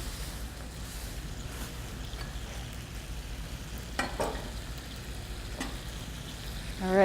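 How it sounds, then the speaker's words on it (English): Chipotle pepper, shallots and garlic stirred together in a bowl give faint, soft scraping and mixing sounds over a steady low background hum, with one or two sharper knocks midway and at the end. "So just mixing it up so that it's evenly distributed"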